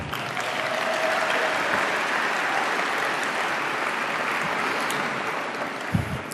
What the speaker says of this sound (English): but they deserve a clap anyway.